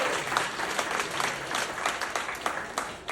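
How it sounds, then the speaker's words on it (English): An audience on a cruise ship applauds its entertainers, a dense, steady round of clapping from many hands filling the room without pause. "give all the entertainers on the ship a nice big round of applause"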